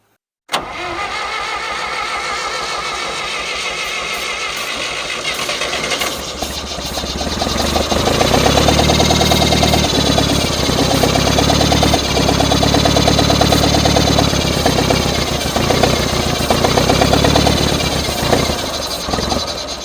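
1960s John Deere 1010 tractor engine, sitting unused for 18 years and primed with ether, cranking loudly with a rapid, uneven rhythmic chug that grows louder partway through, with no talking.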